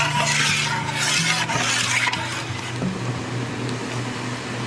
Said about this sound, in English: And I stir until the pectin is dissolved into the juice and it comes to a boil.